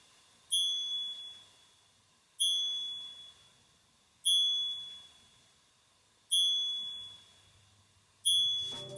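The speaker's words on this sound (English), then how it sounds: "It's exactly what you would expect a mechanical chime to sound like" A Lucky Harvey mechanical striking watch chimes at the hour, five bright metallic strikes at an even two-second rhythm, each ringing out and decaying slowly in a quiet room.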